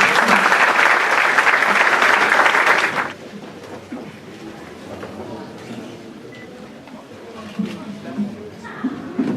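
Loud audience applause at a university forum on the justice crisis in Latin America, filling the first three seconds before stopping abruptly and leaving a quiet hall with faint murmurs and shuffling.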